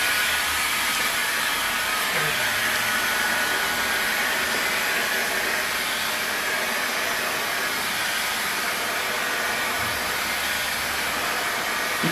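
A heat gun blows hot air over vinyl wrap film, shrinking it, in a steady, loud, broadband hiss that runs unbroken from start to finish with no voices.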